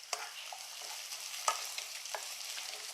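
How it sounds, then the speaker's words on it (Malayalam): Shallots and chopped onion sautéing in a pan with curry leaves, a soft steady sizzle punctuated by a few light stirring scrapes, fairly quiet and close. "ഇനി നമുക്കിതിലേക്ക് ചെറിയുള്ളിയും ഒരു സവോള അരിഞ്ഞതും അങ്ങ് ചേർത്തേക്കാം"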